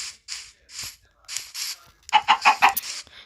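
A chicken in a video game clucking close up in short separate bursts, then a quicker run of louder rhythmic clucks toward the end.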